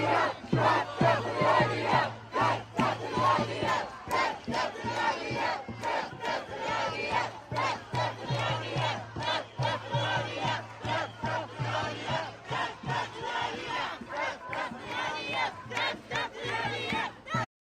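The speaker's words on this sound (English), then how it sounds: "chants from the crowd of "Death, death to the IDF" rang out" A large protest crowd chants in loud, rhythmic unison, the shouted phrases repeating steadily for the whole stretch with no break.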